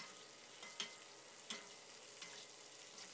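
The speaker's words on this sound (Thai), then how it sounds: "นำพริกแห้งพริกหวานและหอมหัวใหญ่นะครับมาทอดผ่านน้ำมันให้สุกสลดนะครับ" Faint, steady sizzling of dried chilies, bell peppers and onions frying in oil, with a few soft taps of a utensil against the pan.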